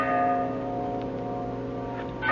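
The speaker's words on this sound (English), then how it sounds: "A bell. I think it comes from way down there in the gorge." A bell rings in a radio horror drama, a sustained metallic tone with lingering overtones, held steadily under a faint hiss and sounding distant.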